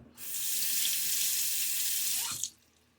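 A tap runs for about two seconds while a Gillette safety razor is rinsed, a steady close hiss of water into a sink that stops abruptly near the end.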